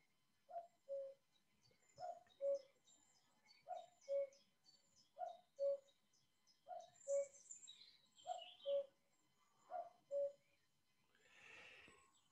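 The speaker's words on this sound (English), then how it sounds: "Now that cuckoo had in the background chiff chaff, and I think there was also a rook quietly in the background" A cuckoo calls its two-note cuck-oo repeatedly at an even pace, with a chiffchaff's high chirps and a faint rook caw in the background outdoors.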